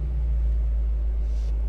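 A BMW M5 F10 sits idling with a deep, steady engine rumble that swells slightly as the throttle is blipped, loud and close with no talking over it.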